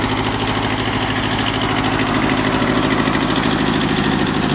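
A Kubota B6000 four-wheel-drive compact tractor engine idles steadily with a low, even chugging rumble and light vibration, running continuously at close range with no voices.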